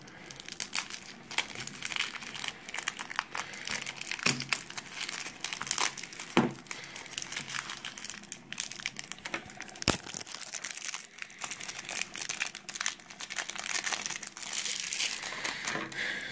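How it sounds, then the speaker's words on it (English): Plastic card packaging from a Dinosmasher's Fury structure deck crinkles and tears close up in irregular bursts, with no talking. "let's get into opening the actual deck"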